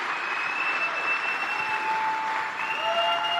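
Rally crowd in Juneau, Wisconsin claps continuously in a steady, even roar, with a faint tonal whine running over the applause throughout.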